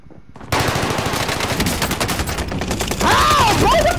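Rapid automatic gunfire from the video game Call of Duty Warzone, loud and close, sustained in dense bursts for most of the clip, joined near the end by a rising and falling electronic whine.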